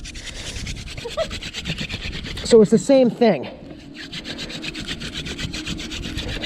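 A long wooden spindle is spun between the hands on a fireboard to make fire by friction, a steady dry rubbing and scraping throughout, close up, with someone talking briefly in the middle.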